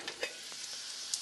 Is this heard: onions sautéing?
yes